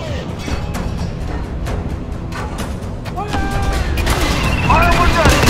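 A video-game battle erupts in a volley of gunfire: dense, overlapping shots and booming blasts that grow louder toward the end, mixed with voices.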